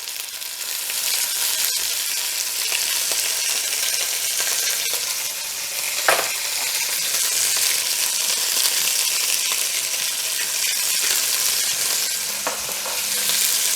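Veal paupiettes sear in a hot pan with a steady, loud sizzle and crackle, a few sharp spits and pan scrapes breaking through, no voices.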